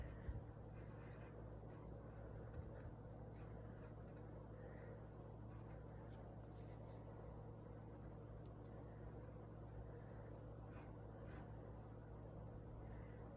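A pencil draws a portrait on paper, making faint, close scratching strokes in irregular short bursts over a quiet room hum.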